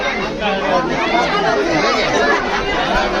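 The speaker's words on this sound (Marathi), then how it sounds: "इकडे हे गर्दी झालेली आहे पूर्ण अस्वल बघण्यासाठी" Dense crowd chatter from visitors gathered at the bear enclosure at Mumbai's Rani Baug zoo, many overlapping voices, close and loud, with no break across the moment.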